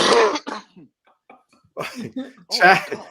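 Harsh, forceful whooping-cough coughs and throat-clearing bursts up close, separated by brief silences, with some voice mixed in.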